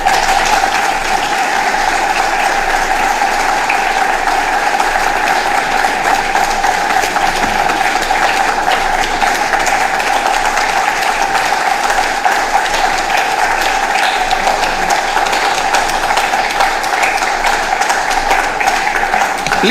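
A large audience gives a standing ovation after a regional state address in a hall, with dense, steady clapping filling the space at an even, loud level throughout.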